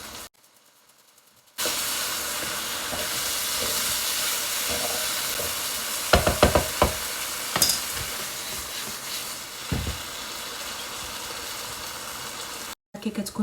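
Potatoes frying in a pan while cheese is added, a steady close sizzle and hiss that runs throughout after a quiet start, with a few brief clinks and stirring knocks over it.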